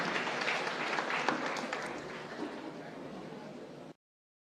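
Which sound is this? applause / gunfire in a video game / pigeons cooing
applause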